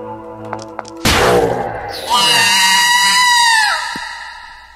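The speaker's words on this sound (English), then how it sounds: "That scream's almost annoying now." A loud, drawn-out scream from the horror video game Mad Father bursts in after a quiet stretch, rises in a second wave and slowly fades, with a few faint tones before it.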